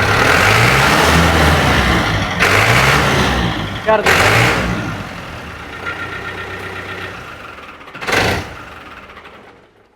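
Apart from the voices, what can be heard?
1998 tractor engine running and revving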